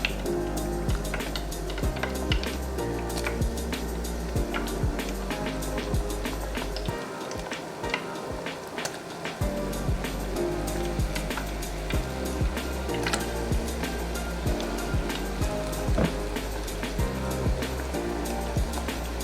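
Suya butter chicken pieces frying in a deep fryer, a loud, dense, continuous sizzle and bubbling of hot oil held close, briefly dipping in the middle, with no voices.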